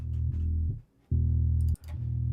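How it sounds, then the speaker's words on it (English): Bass guitar played through a guitar rig with EQ and CLA 76 compression, thick sustained low notes in phrases broken by a short gap of near silence, loud and alone with no voices. "The bass guitar sounds like this."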